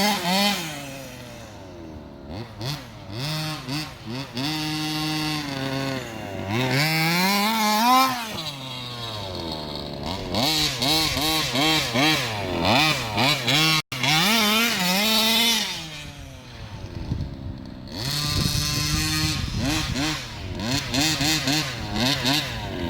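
A rebuilt Rovan Baja 30.5 cc engine buzzes loudly and close, revving up and down repeatedly in rising and falling sweeps, with a brief lull near the middle before more throttle blips.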